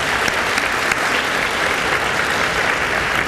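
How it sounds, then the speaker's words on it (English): A crowd at an evening awards gala gives a steady round of applause, dense and even throughout, with no voices rising above the clapping. "Let's have another round of applause"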